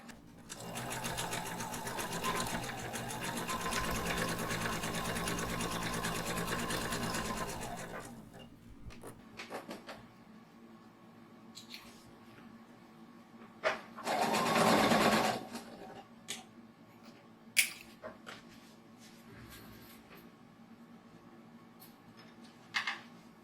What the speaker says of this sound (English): stitch on the line.